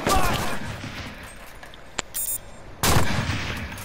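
A submachine gun fires in a video game: a rapid, loud burst at the start, then a lull with a single sharp shot and faint clicks, and another close burst near the end, with players talking over it.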